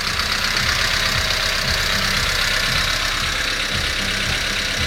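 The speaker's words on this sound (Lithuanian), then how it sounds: "Variklis dirba" A Mitsubishi Colt car engine with about 300,000 km on it idles nearby in a steady, continuous hum with a faint rhythmic ticking knock running through it.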